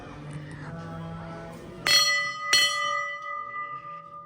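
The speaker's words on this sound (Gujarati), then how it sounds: "એકવાર હજુ વાર ઘંટી બજાવી લે" A small temple bell at a village shrine is struck twice, two bright ringing strikes that linger and fade, after some quiet background murmur.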